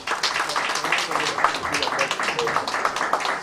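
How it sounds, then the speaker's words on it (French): Audience at a sports awards dinner applauding, a continuous patter of many hands clapping with an announcer's voice running over it. "On applaudit pour Trésor Lola."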